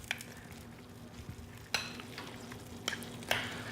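A spoon mixing crab claw meat with aioli in a bowl, soft wet stirring with several distinct clinks and scrapes of metal against the bowl, close and unaccompanied by speech.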